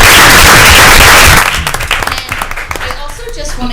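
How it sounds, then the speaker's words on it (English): A school board meeting audience claps loudly for a spelling bee winner; the applause is dense and fills the room, then drops off into a few scattered claps and murmuring voices. "So if we could give a round of applause"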